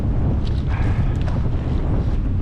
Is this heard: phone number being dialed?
no